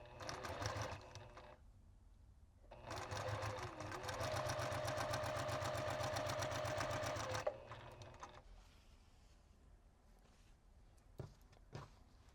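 A sewing machine runs in two bursts while chain piecing quilt strips, a short stitching run followed by a longer steady one of rapid rhythmic needle chatter, close and loud, then quiet handling noises.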